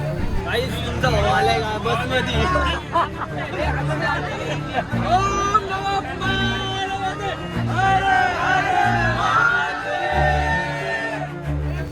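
Dense crowd of pilgrims massed at Brahmagiri hill on the third Monday night, a continuous loud babble of many overlapping voices with occasional shouts and whoops, close around and unbroken throughout.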